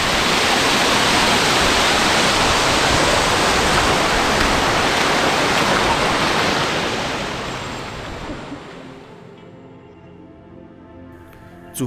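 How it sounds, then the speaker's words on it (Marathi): A waterfall pours near the Waghjai temple in Andharban jungle during rain, heard as a loud, steady rushing roar that fades over the last few seconds into quieter ambience, with no voices. "तिकडनं जो हा धबधबा पडतोय"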